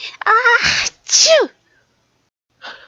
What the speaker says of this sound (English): Sneezing, gasped Smee